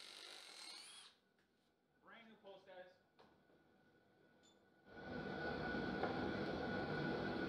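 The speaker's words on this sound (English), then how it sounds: "I'm gonna pre-drill just a small hole." Cordless drill boring a small pilot hole into a 6x6 wooden post, a steady loud whirring grind starting midway and running to the end, following a few knocks and someone speaking.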